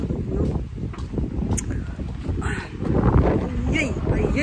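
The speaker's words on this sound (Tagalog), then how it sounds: "Mahangin kasi siya." Gusty outdoor wind buffets a microphone in cold weather, with low rumbling bursts that swell louder toward the end while people talk underneath.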